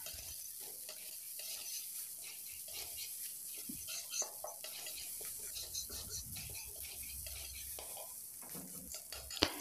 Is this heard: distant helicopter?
no